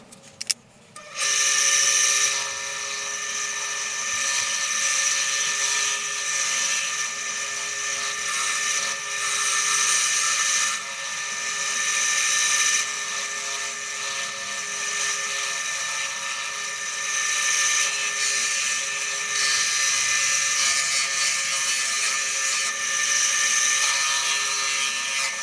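A wood turning tool takes a final finishing cut on a Christmas cracker ornament spinning on a lathe, a steady high whining hiss with strong tonal lines that holds continuously and close up for the whole stretch, no talking.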